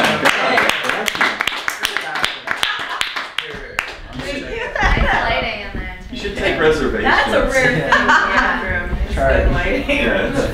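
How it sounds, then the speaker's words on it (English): A small audience claps briskly for a few seconds in praise of a bathroom being shown, then the clapping gives way to people talking with chuckles and laughter. "Give a round of applause for the bathroom"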